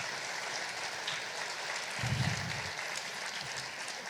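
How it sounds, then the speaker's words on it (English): Comedy show audience applauding comedians, a steady wash of clapping from a crowd at moderate distance, with a short swell of cheering midway. "Give these ladies a huge round of applause."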